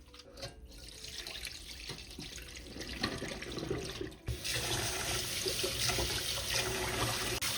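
Basmati rice being rinsed by hand under running water in a kitchen sink, a steady splashing stream with sloshing and brief pauses.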